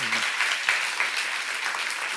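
Church congregation at a Korean seminar applauding, a dense, even patter of many hands lasting about two seconds at moderate loudness, with no talk over it.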